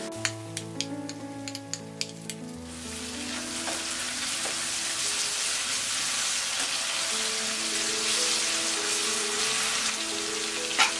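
Onions and tomatoes sizzle and fry over a high flame in a pan, a steady close hiss with faint clinks of a spoon early on, no voices.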